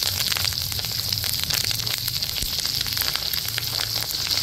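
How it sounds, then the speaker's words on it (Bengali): Fish roe frying in hot mustard oil in a village kitchen, a steady close sizzle with scattered sharp pops and crackles throughout. "খুব সাবধানে ভাজবেন, একটু মাছের ডিমটা ফোটে"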